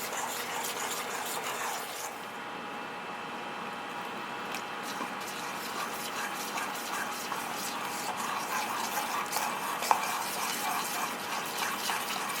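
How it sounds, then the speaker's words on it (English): Water is poured bit by bit into okonomiyaki batter in a kitchen, giving a faint, continuous trickle with soft mixing sounds, quiet and close, with no voices. "You can add a little by little water."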